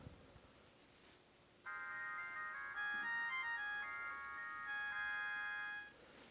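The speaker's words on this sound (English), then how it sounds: "The ringtones likewise are pretty well, individual, shall we say." An Atongm W008 smartwatch plays a polyphonic electronic ringtone: a bright, steady run of layered synthetic chime notes that starts abruptly, holds at an even level for several seconds, then stops, heard close with no talking.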